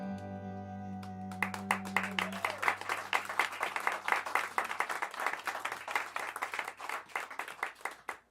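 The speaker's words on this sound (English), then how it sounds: "Are you clapping because there was free food?" A small audience clapping for several seconds after a soft musical tone fades, lively irregular applause close by that tapers off at the end.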